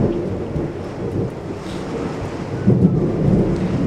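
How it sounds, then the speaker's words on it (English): Deep rolling thunder from a lightning storm rumbles steadily with rain noise throughout, swelling louder in a heavier crash toward the end. "Whoa, that lightning was huge."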